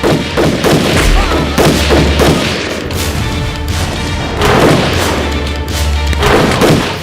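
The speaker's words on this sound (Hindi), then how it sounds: "दुश्मन के सैनिक बंदूकों से गोली चला रहे थे।" Battle gunfire in a Hindi film: rapid loud bangs and booms crack out in irregular clusters over a rumbling background, as enemy soldiers fire guns during an attack on a fort.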